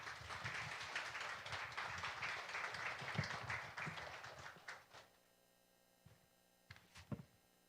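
A church congregation applauds as a pastor comes forward at a Korean worship service, a steady dense wash of clapping for about five seconds that thins to a few scattered claps.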